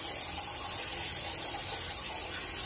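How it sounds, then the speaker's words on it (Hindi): Water streams from a Jaguar wall mixer shower, a steady hissing spray running continuously at close range with slightly low pressure. "ये झरना का प्रेशर है"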